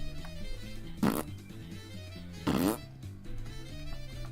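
Two short bursts of mouth-made fart noises, blown with the lips, come about a second and a half apart, each loud and buzzy against quiet game music playing underneath; a voice is imitating the sound.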